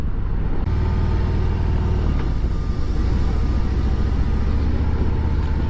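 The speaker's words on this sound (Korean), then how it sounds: "조금만 악셀을 당기면 바바바바바바 하는 소리가 뒤에서 나네요." A Harley-Davidson Road Glide cruiser motorcycle rumbles steadily and loudly under light throttle, a deep throbbing exhaust with low pulses that holds without a break.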